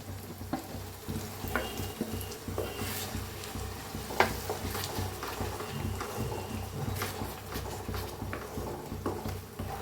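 Chopped spinach being stirred and mixed in a hot pan for palak paneer, with a steady frying sizzle and repeated scraping and stirring clatter throughout, close and fairly loud, no talking.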